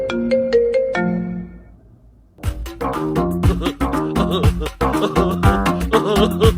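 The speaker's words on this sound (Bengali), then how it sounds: "এই কপিলে ফোন দিছে রে।" A mobile phone ringtone for an incoming call plays loud and close: a few tonal beeps, a brief gap, then a busy melodic ringtone tune with a driving beat continuing to the end.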